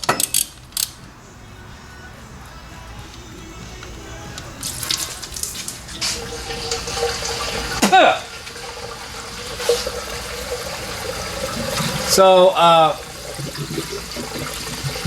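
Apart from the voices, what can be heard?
water and antifreeze draining from car oil drain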